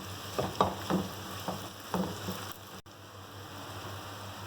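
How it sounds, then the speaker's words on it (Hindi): Half a kilo of finely sliced onions frying in oil over a medium flame, a hissing sizzle with several soft stirring scrapes early on that settles into a quieter, even fry. "अब मैंने ये आधा किलो प्याज ली हैं जिनको मैंने बारीक स्लाइसेस में काट लिया है। ये डाल देंगे ऑयल में।"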